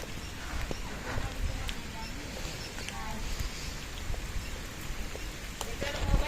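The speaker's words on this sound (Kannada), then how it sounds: "ಮಳೆ ಒಂದು ಸ್ವಲ್ಪ ಜಾಸ್ತಿ ಬತ್ತು" Heavy monsoon rain falling outdoors at a park and cow shelter near Nippani, a dense continuous hiss with scattered drop hits close to the mic, while a person talks over it.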